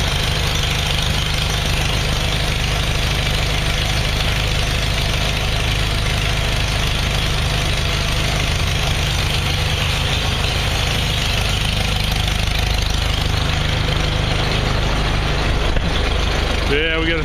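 An M tractor engine idles on a cold winter morning during farm chores, a loud steady low chugging throughout while people talk near it.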